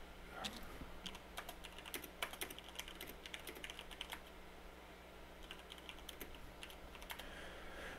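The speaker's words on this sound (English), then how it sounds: "I'm typing in chat instead of talking." Continuous typing on a computer keyboard, a steady patter of quiet key clicks with small irregular bursts, faint and close, with no talking.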